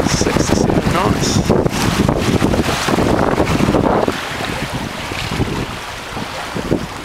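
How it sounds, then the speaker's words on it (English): Steady wind rushes over a sailboat running downwind wing and wing, with broadband gusting and water noise that stay loud for about four seconds and then ease to a softer, continuous breeze. "Nice breeze blowing."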